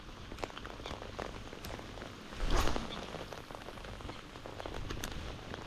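Steady rain patters on a surface with scattered drops during pike fishing in rising wind, a brief louder gust or splash midway, no voices.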